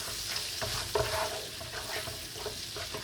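Garlic sizzles gently in a hot pan while being kept moving and stirred, giving a continuous soft frying hiss with occasional scraping touches.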